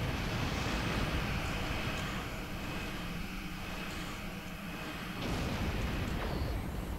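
Starship weapons fire at a probe in Star Trek Online, a loud continuous roaring barrage with bursts that swell and dip across the stretch and no voices.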